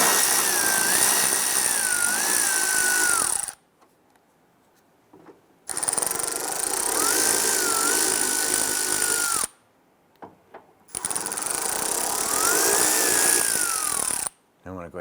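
A power tool spins loose the 10mm nuts on the inner taillight of a 2012-2017 Toyota Camry. It runs in three loud, sustained bursts, each rising and falling in pitch, with short quiet pauses between them.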